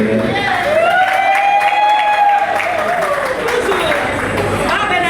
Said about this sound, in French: Encore des applaudissements pour elle.